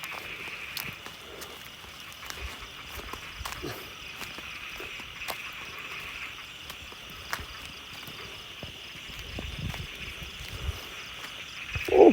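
Frogs croak across flooded rice paddies at night in steady, overlapping calls, joined by faint insect chirring and the occasional footstep, with a louder rustle right at the end.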